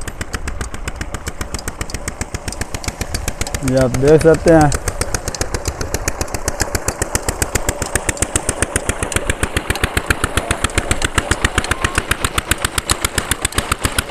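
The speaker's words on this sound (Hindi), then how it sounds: "ये एक और डीजल इंजन है जो दरिया के किनारे पर रखा हुआ है और चल रहा है।" A diesel engine pump sitting on a riverbank drawing water, chugging in a fast, steady thump close by throughout, with someone speaking briefly over it.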